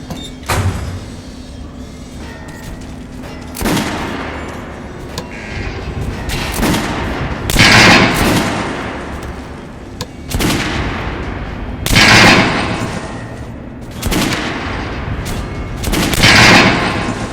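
Rifle shots ring out at a shooting range in the video game Metro: Last Light, loud, sharp, single reports spaced a few seconds apart, each trailing into a booming echo.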